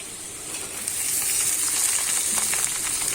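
Chopped ridge gourd drops into potatoes frying in a wok, the hot oil hissing and sizzling steadily and growing louder, with light stirring noises and no speech.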